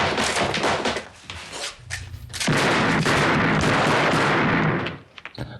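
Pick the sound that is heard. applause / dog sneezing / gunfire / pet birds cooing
gunfire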